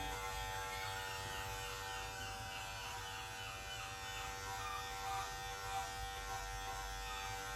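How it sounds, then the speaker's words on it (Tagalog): Electric hair clippers run with a steady, close buzz while cutting hair for a tomahawk-style haircut, droning on without a break and without speech. "Maganda yung panggupit na yan."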